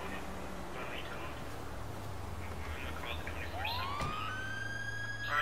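A police car siren in GTA 5 roleplay on PS4 wails upward and holds a high tone over the last two seconds, rising out of steady game background noise.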